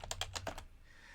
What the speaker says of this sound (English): I can exit out of it by just typing exit.